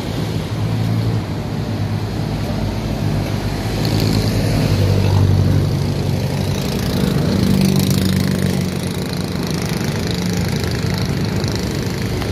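A truck-mounted piece of equipment idles at a riverside demolition and construction site on the Pasig River esplanade, giving a steady, close, low engine rumble that swells slightly midway, with no talking.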